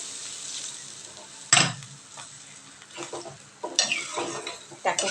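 Water poured into a pan of katla fish curry cooking in a home kitchen sets off a sudden loud sizzling burst, then settles into steady frying with further bursts of stirring and bubbling, no talking.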